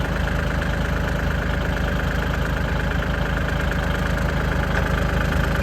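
Ten-wheeler truck engine idling at an earthmoving site, a steady loud low rumble with an even knocking pulse, continuous throughout and without talk.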